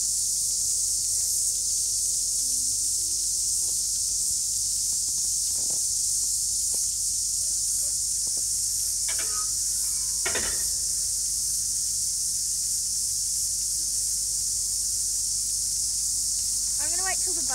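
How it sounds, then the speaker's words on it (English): Outdoors, a steady high-pitched cicada buzz runs continuously, loud and unbroken, with a few faint scattered knocks and chirps underneath. "There's a cicada."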